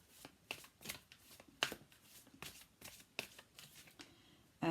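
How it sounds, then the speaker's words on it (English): Tarot cards shuffled and pulled from the deck, giving a run of quick papery riffles and soft slaps, close and fairly quiet, ending in one sharper card snap with no talking. "let's just pull a card from your person."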